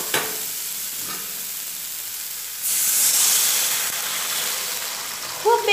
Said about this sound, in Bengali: হালকা পরিমাণে জল দিলাম